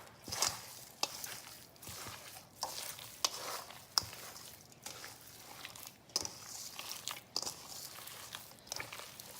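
Wet, squishy stirring and squelching as ground pork and beef are mixed by hand with onions and Italian-style panko breadcrumbs, irregular soft pulses close by with no voices.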